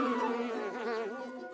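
Bees buzz in a Soviet animated Winnie the Pooh cartoon, a sustained, loud, droning hum that wavers and bends in pitch as the swarm moves, heard alone without speech.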